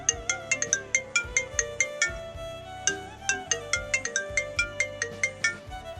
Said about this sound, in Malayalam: അമ്മ എന്താ ഫോൺ എടുക്കാത്തെ?